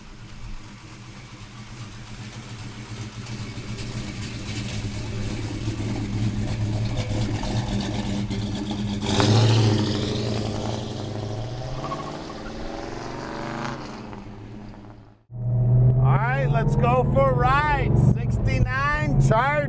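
A black 1969 Dodge Charger with a Hemi engine and a 4-speed idles with a loud, steady drone that swells partway, then drops out abruptly before a louder, busier stretch of sound follows.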